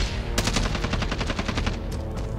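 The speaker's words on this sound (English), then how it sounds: "Where are they shooting you from?" Rapid automatic gunfire in Call of Duty Warzone, a loud burst of evenly spaced shots lasting about a second and a half, trailing into a few scattered shots.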